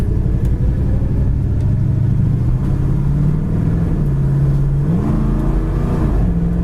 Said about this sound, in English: Kickdown works good. Transmission shifts right down to second.